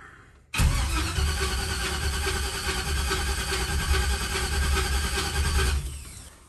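A car engine cranks briefly, then catches and roars into a steady, rough idle that runs for several seconds before cutting off.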